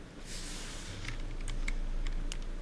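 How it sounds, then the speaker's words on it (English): Ten-finger touch typing on a computer keyboard during coding work in Neovim, a brisk run of close, crisp key clicks over a steady low hum. "Do you know 10-finger touch typing?"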